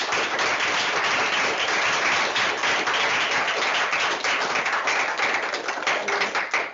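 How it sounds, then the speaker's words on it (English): Sustained applause from a panel audience at an open access and activism event, dense steady clapping filling the room for several seconds and tapering slightly at the end. "can I have a massive round of applause for these guys?"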